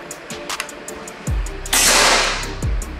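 A Gousuto Oria V2 air rifle fires a single sharp shot, close and loud, with a burst of hiss and a short decay, amid a few small clicks and handling knocks.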